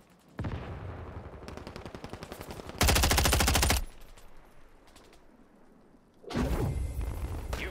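An MTZ 556 rifle fires in a Call of Duty game in long, rapid automatic bursts, loud and close, with one especially intense stretch and another burst near the end, with no talk.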